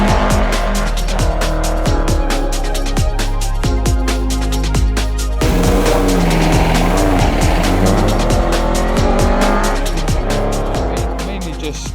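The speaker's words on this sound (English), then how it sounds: "We're racing the Jowett Jupiter" A Jowett Jupiter race car laps the Goodwood circuit at the 83rd Members' Meeting, its engine droning loud and continuous with tyre noise, and a voice talks over it.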